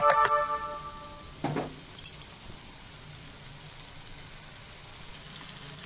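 An egg fries in a pan on a stove for noodles with garlic, onion and potato, a faint steady sizzle after a few clinks and knocks at the start.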